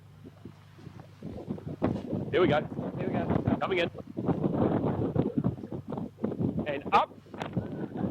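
Gusty wind buffets the microphone at an outdoor rugby ground at Birkenhead War Memorial during a club match, a steady broadband rush under continuous commentary from a man.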